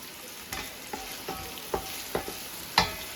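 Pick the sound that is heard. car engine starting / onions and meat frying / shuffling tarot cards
onions and meat frying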